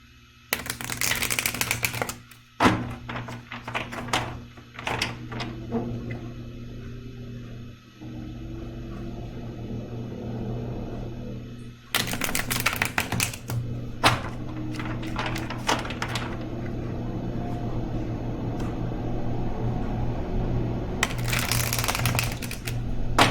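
Tarot cards are riffle-shuffled in bursts of rapid papery flicks near the start, midway and at the end, with quieter handling and card rustling between.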